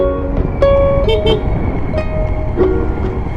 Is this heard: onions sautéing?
no